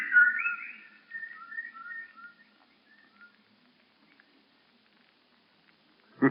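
Birds call in an old-time radio horror drama, high warbling whistles that trail off and fade toward silence, ending with a brief low thump.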